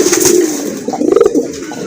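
Domestic pigeons kept for sale cooing up close, a few loud throaty coos rolling one after another in a short burst.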